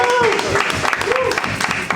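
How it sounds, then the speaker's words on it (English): Applause from a room of people at a board retreat, dense and steady for two seconds, mixed with cheering voices and some talk over it. "let's give a round of applause"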